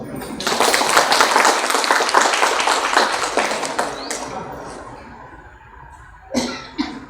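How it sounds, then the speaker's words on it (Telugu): An audience at a spoken lecture gathering applauds the organisers with a dense burst of clapping that swells quickly, holds for about four seconds, then tapers off, followed by a couple of isolated knocks. "ఒక్కసారి ఇక్కడ కార్యనిర్వాహకులందరి కోసం మీరందరూ చప్పట్లు కొట్టవలసిందిగా కూడా."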